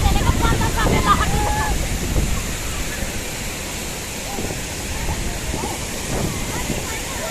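At Jalbira waterfall, the falling water throws spray toward the listener, making a steady broad rushing roar mixed with wind buffeting on the microphone, and someone speaks over it.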